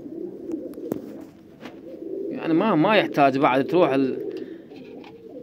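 Pigeons coo in a short run of rolling, wavering calls near the middle, set against someone speaking Arabic, with his talk continuing before and after the cooing.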